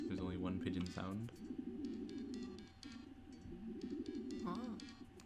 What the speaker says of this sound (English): You can hear the pigeon. There's only 1 pigeon sound.